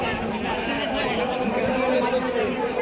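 A dense crowd at a Durga Puja pandal fills the air with a continuous, close murmur of overlapping chatter, and a nearby voice talks over it.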